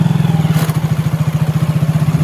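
A motorcycle engine idles close by, a loud, even thumping pulse that keeps a steady rhythm throughout, with light rattling over the top.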